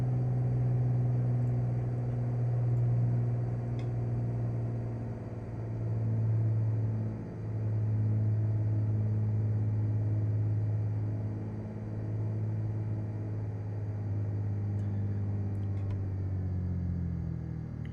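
Light aircraft in Microsoft Flight Simulator doing a brakes-on engine run-up at 2,000 RPM: a loud, steady, close propeller-engine drone with a strong low hum that dips briefly and then holds, with no talk.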